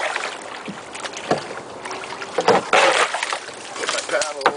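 A canoe is paddled through a marsh channel, with intermittent paddle splashes and water swishes near the boat, some wind buffeting, and a voice briefly heard.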